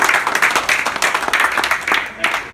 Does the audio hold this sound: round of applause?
yes